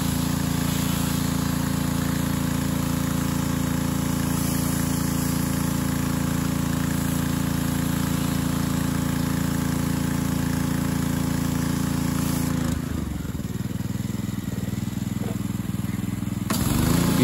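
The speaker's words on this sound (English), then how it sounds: "it's easier to pull and push the surface cleaner forward and backward on a rough surface like this" A Ryobi surface cleaner runs steadily on rough concrete with a loud, continuous engine drone for about twelve seconds. The drone then drops away abruptly, leaving a quieter stretch before a brief return near the end.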